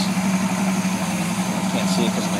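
A warmed-up Crusader 454 marine engine idles in neutral around 660 to 680 rpm, giving a steady, continuous low rumble with an even throb that holds at a constant level throughout.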